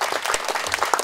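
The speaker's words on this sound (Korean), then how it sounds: "박수 한번 쳐주시죠." Brief burst of clapping from the audience at a Korean War anniversary monthly gathering in Sejong, with individual claps distinct and close.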